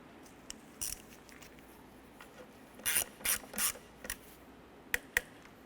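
A ratchet snugging down an intake manifold bolt on a 2008-2012 Honda Accord gives quiet, close raspy bursts, a few short strokes clustered together amid near silence.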